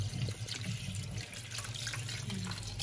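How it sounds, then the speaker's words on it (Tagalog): Tap water runs steadily into a pot being filled for boiling ube halaya, a continuous close splashing stream that fills the whole stretch with no talk over it. "Lagyan muna natin ito ng tubig"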